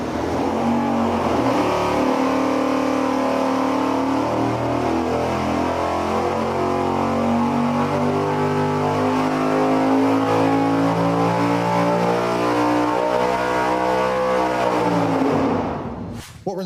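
Engine running under load on a dyno during a throttle-body test, a loud sustained roar with shifting harmonics for about fifteen seconds before the throttle drops abruptly and it cuts off.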